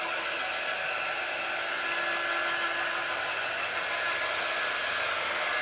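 Hair dryer blowing steadily on a flat craft project, a loud continuous whooshing whir with a faint motor hum, unbroken throughout with no talk.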